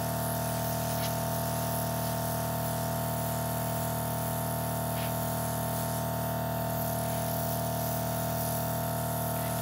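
Airbrush misting foundation makeup onto a face, a steady soft hiss with a constant compressor hum throughout, close and even, with no talking.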